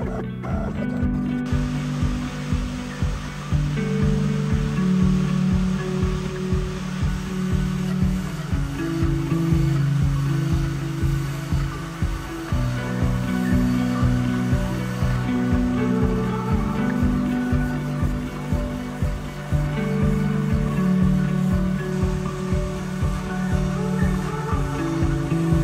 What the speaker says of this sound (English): And I press start for the very first time on my new CNC machine.